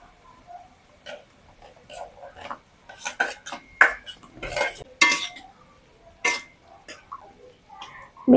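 Beans are added to a pan of carrots for fried rice and stirred, giving scattered sharp clinks and scrapes of a utensil against the pan, close and irregular, with a short faint sizzle between them.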